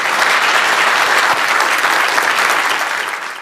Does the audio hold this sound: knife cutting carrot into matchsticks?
no